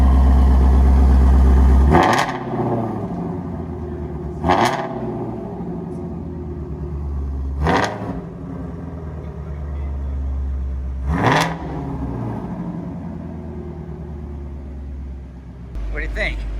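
A 2020 Ford Shelby GT350 Heritage Edition Mustang V8 fitted with a 3-inch stainless resonator-delete X-pipe idles with a deep steady rumble, punctuated by four sharp throttle blips that rise and fall back to idle.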